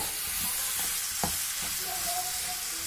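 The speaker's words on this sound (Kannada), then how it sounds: "ಸಿಮ್ಮಲ್ಲಿಟ್ಟು ಫ್ರೈ ಮಾಡ್ಕೋಬೇಕು, ಇಲ್ಲಾಂದರೆ ಸೀದೋಗುತ್ತೆ." Chicken gizzard masala fries on a low flame, giving a soft, steady sizzle with an occasional faint stirring scrape, quiet and close.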